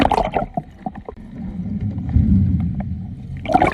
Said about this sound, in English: so they're gonna run the engine